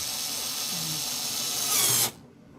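A Ryobi power drill drives a screw with a steady high whir that climbs in pitch and strain near the end, then cuts off abruptly into quiet, close up and without talk.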